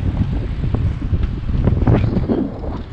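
Gusty wind on the coast at Neuendorf buffets the microphone with a deep, rumbling roar that swells and fades unevenly throughout.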